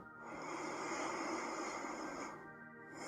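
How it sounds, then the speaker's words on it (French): Long deep breaths taken during a gentle yoga session, a soft steady airy rush in and out through the nose, close and quiet, with a brief pause between breaths. "prendre de longues et profondes respirations"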